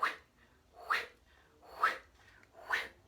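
A voice imitates a rotating lawn sprinkler with four breathy, hissing bursts spaced evenly about a second apart, soft and close with quiet gaps between.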